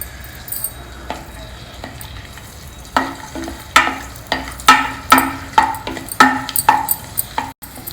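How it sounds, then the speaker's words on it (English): Cashew nuts and raisins fry in hot ghee in a pressure cooker, a steady sizzle under sharp metallic clinks and scrapes of a spoon stirring against the pot in a quickening rhythm. "Now heat a spoon of ghee in your pressure cooker. I am adding a few cashew nuts and a few raisins."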